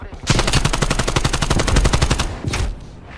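A PPSh submachine gun in Call of Duty Black Ops Cold War fires a long, rapid, evenly spaced burst, loud and close, then stops briefly before a short final burst.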